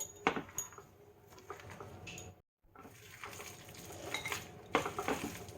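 Prawn pakora batter with rice flour, ginger-garlic paste and spices being worked in a bowl, with repeated clinks and scraping of utensil against the bowl, a brief silent gap in the middle, close and moderately loud.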